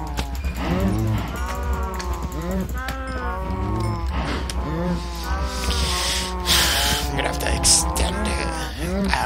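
Cattle in a crowded Minecraft cow pen mooing repeatedly, overlapping low moos in quick succession, loud and close, with a player talking over them.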